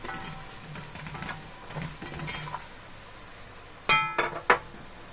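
Spices are stirred in a cooking pan with a low sizzle and scraping, and three sharp metallic clanks of a spoon against the pan sound near the end.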